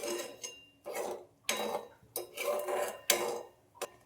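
Semolina being stirred into sugar syrup in a metal pan, giving a run of scraping, clinking strokes in separate bursts, close and fairly loud, with no talking.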